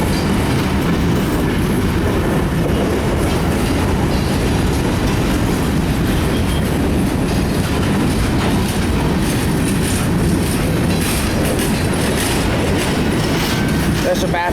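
A CSX westbound mixed freight train rolls past with a lashup of locomotives, a loud continuous rumble and steady clickety-clack of wheels over rails, with faint squeals and a voice talking underneath.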